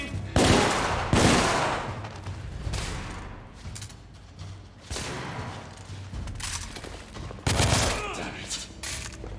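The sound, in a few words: gunfire in the video game The Order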